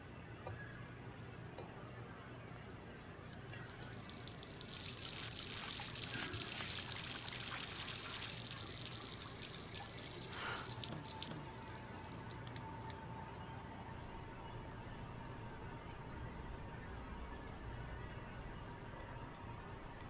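Water runs from a tap in the video game Life Is Strange, a steady broadband rush that swells louder for several seconds and then settles into a softer, continuous flow behind faint game ambience.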